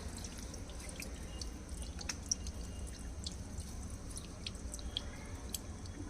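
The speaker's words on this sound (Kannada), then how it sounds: "ಇದನ್ನು ಇವಾಗ ನೀರು ಬಿಟ್ಕೊಂಡು ತೊಳೆದು ಬಿಡ್ತೀನಿ" Water running from a tap while a plant is being washed, a steady soft splashing and trickling with scattered faint drips, close and quiet with no talking.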